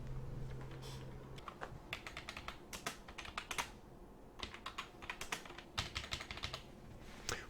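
Customer details being typed on a computer keyboard at a point-of-sale register, a steady run of quick, light key clicks in short bursts with brief pauses, fairly close and alone.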